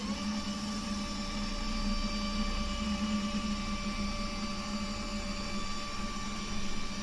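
A Genmitsu 4040 Pro CNC router jogs its gantry, producing a steady tonal motor whine with a constant hum that holds evenly throughout, close and moderately loud.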